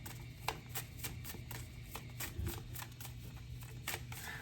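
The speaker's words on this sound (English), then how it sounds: "It's taking a minute for these cards to shuffle." Tarot cards being shuffled, a run of quick, crisp riffling flutters repeating at an even rhythm, close and fairly quiet, with no voices.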